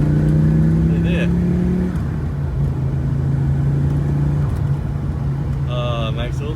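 Audi UR Quattro five-cylinder engine droning and revving from inside the car, a steady low hum that rises and settles, with road rumble under it and brief bursts of talk.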